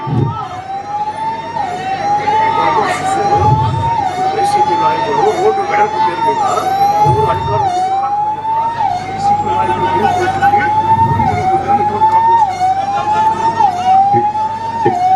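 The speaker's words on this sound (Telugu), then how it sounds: "అంబులెన్స్ వస్తామని దారి ఇచ్చేయండి దారివ్వండి" An ambulance siren wails continuously in repeating rising sweeps, loud and close, as it moves through a dense crowd at a political rally in Mallanur, Kuppam, with people shouting and talking throughout.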